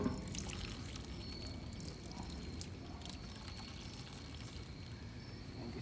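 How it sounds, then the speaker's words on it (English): Soapy water is poured over something to rinse it, a faint, continuous trickling and splashing beneath a low, rumbling background that runs throughout. "I'm just gonna rinse some more of this soapy water on here"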